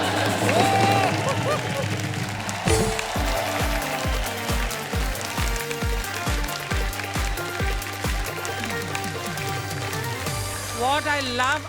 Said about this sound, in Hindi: इन दोनों के लिए जोर जोर से तालियां बजाएं।